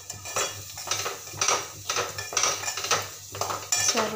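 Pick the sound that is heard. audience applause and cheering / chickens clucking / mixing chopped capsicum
mixing chopped capsicum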